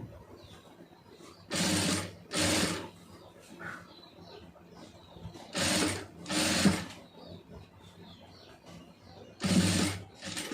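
A sewing machine stitches piping onto fabric in short, loud mechanical bursts of about a second each, separated by quieter pauses with faint background sounds.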